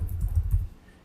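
Brief rapid run of computer keyboard typing, a close cluster of soft clicks fading out after about half a second.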